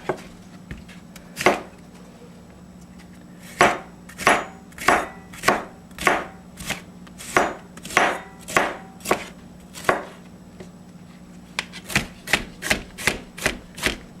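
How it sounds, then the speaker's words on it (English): A knife chops half a green pepper on a cutting board for smoked chicken chili, starting with a few isolated strikes, then a fast run of evenly spaced chops, a pause, and another quick burst, close and crisp. "However you want to cut up your green pepper, it's alright with me."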